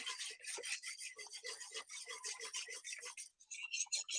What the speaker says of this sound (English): I'm actually going to get my whisk here. Kind of whisk it up a little bit.